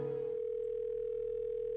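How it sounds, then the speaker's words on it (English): A phone gives off a steady electronic tone, continuous and moderately loud throughout, with a brief softer burst at the start. "Suddenly, my phone starts ringing."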